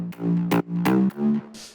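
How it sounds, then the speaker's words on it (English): Layered synth tones in FL Studio, with sustained metallic-sounding notes in several short phrases broken by bright noisy bursts, ending on a soft swell of white noise. "There's some white noise stuff going on, and there's some metallic layers to it"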